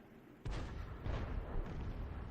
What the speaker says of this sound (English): There's an outgoing shell, but not from Arty.